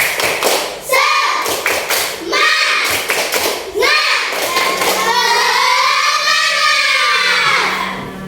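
A classroom of children doing the rhythmic clapping chant "tepuk semangat", with patterned bursts of claps and thuds alternating with loud chanted voices close by.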